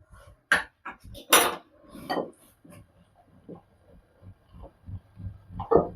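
Gram flour batter with a pinch of baking soda being mixed with a little water for mushroom pakoras, irregular wet slaps and clinks of a spoon against a bowl, close and alone.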